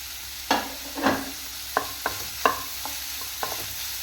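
Onion, green chili and ginger are sautéed in a pan, with a soft background sizzle broken by several sharp scrapes and clinks of a spatula stirring, close and fairly quiet, no talking.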